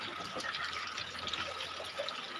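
Heavy monsoon rain pours down in a village, a dense, constant hiss of falling water close by with no voices.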